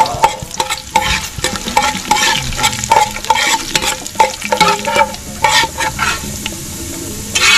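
Annatto seeds stirred in hot oil in a pan, a loud close sizzle with frequent rhythmic scraping and clinking of the utensil against the pan, steady crackling running underneath the whole time.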